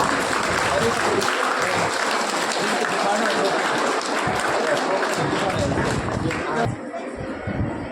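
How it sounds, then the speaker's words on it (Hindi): Schoolchildren and parents applaud pupils at a results ceremony in a village school courtyard, a broad, loud wash of clapping mixed with crowd noise and chatter, continuous throughout and dipping a little near the close. "इन भैया बहनों के उत्साहवर्धन के लिए तालियां बजती रहनी चाहिए जोरदार"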